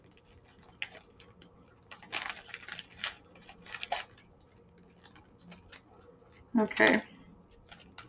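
Snipping scissors cut through crinkly plastic Japanese snack packaging in a few short bursts, with a brief spoken word and rustling between cuts.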